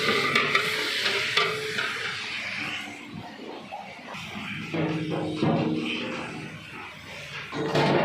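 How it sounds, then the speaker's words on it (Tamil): Onion, cinnamon, chili and cardamom sizzle and fry in hot oil, with stirring and clattering of a utensil, a steady crackle throughout with no talking. "அதுக்கு வெங்காயம், எண்ணெய், பட்டை, மிளகாய், ஏலக்காய் போட்டு தாளிக்க போகிறோம்."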